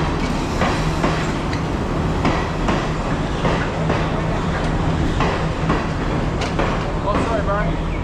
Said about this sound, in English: oh, here's our train here.